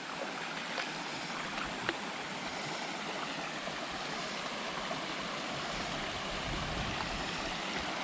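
Water rushes steadily along a creek in a beautiful outdoor area, a continuous, broadband flow that stays even and fairly close throughout with no other sounds standing out.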